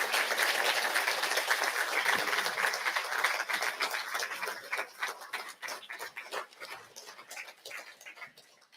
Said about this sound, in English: Can we give them all a huge round of applause